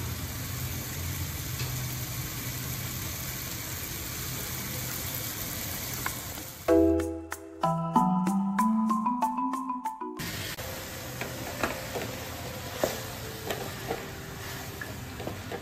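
Raw jackfruit pieces sizzling in a tomato masala in a pan, a steady frying hiss broken midway by a burst of loud tonal clatter before the sizzle resumes with light stirring.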